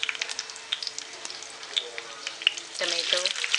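Chillies dropped into hot oil with bay leaf, shahi jeera, cloves, cinnamon and black pepper for goat brain biryani, crackling and popping with sharp spatters, briefly under a voice.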